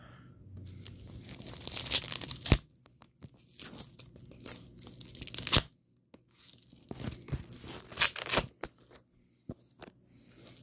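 Close-up tearing and crinkling of a package being cut open with a pocket knife, in short bursts, with sharp slicing rips and plastic rustling between brief pauses.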